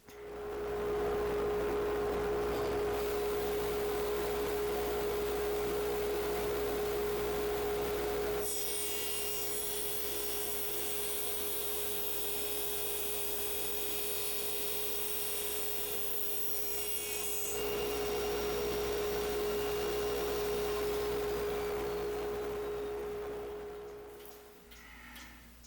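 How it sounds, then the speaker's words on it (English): An electric router recuts the end of a wooden piece: a steady motor whine runs throughout, and a harsher, brighter cutting roar takes over for roughly nine seconds in the middle before the tool settles back to its idle hum. "I'm going to have to dig out my router again and reroute this end over"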